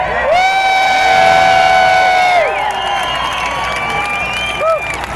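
A large political rally crowd in Wisconsin cheers and whoops, with long sustained shouts and a high voice rising above the din before the roar eases slightly, claps mixed in.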